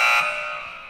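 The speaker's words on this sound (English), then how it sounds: "you're going to hear a buzzer, and it's going to sound kind of like this" A loud electronic buzzer, used as a time-up warning, sounds a harsh sustained tone that peaks briefly at the start and then slowly fades over about a second, with no talk.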